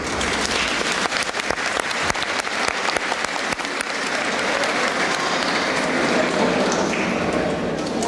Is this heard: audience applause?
yes